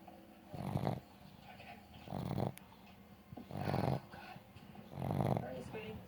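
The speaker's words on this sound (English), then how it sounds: "You're snoring, but you're looking at me." A pug snores with its eyes open in four slow, regular rasping breaths, each a wheezy, growly snort separated by quiet pauses, close and soft.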